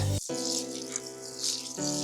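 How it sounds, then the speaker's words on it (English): Water being poured steadily for planting fruit trees in a spring garden, a continuous close splashing flow that briefly breaks near the start and shifts in tone toward the end. "I'll add some water."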